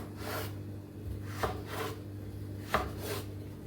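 Knife chopping potatoes into French-fry strips on a board, a few rhythmic cuts with sharper strokes standing out over a steady low kitchen hum, no talking.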